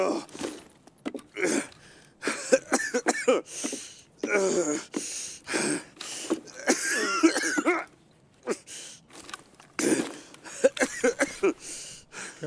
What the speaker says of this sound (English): Can my guy stop coughing, please, dude?